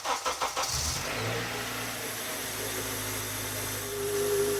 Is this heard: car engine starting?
yes